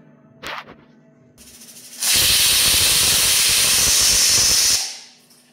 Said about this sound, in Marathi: तर आता कुकरच्या 3 शिट्ट्या झालेल्या आहेत